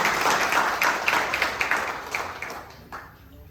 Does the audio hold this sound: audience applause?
yes